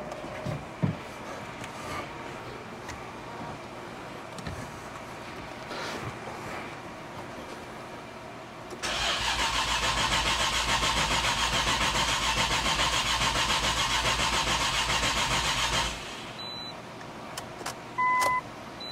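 A Nissan R34 under build cranks and fires up, then runs at a steady, loud idle for several seconds before shutting off, with quieter workshop noises before and after.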